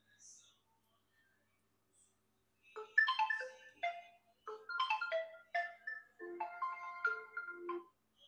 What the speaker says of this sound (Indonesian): Jadi akan muncul suara di HP yang hilang seperti itu ya